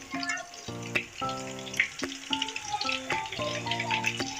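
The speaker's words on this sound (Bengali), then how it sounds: "এইভাবে আমি অল্প অল্প করে ভেজে নেব।" Beef kofta balls frying in hot oil, a soft crackling sizzle punctuated by repeated clinks and scrapes of a utensil against the pan, fairly quiet and close, no voices.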